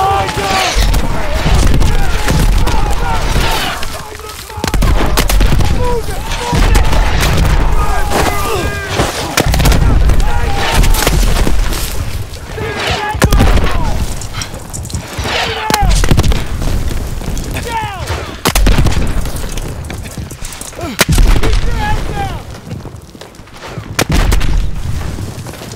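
An incoming artillery barrage in a Call of Duty WW2 battle: repeated loud booming explosions and bursts of gunfire, dense and continuous, with voices shouting over the blasts.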